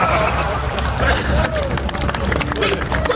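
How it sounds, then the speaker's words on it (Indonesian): Audience clapping during a humorous Islamic sermon, a busy patter of hands mixed with crowd chatter and a nearby voice, continuous and fairly loud throughout. "Kok tepuk tangan?"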